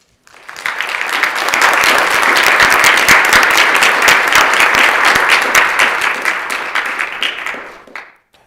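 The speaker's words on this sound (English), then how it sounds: "If you could just give her a round of applause." Loud, dense applause in an assembly chamber during a floor session, swelling in quickly, holding steady for several seconds, then fading out, with no talk.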